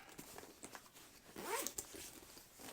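A zipper is pulled open along a padded nylon gig bag made for a NUX Bumblebee pedalboard: short, faint rasping strokes with soft fabric rustling, one longer pull midway, close by in a quiet room.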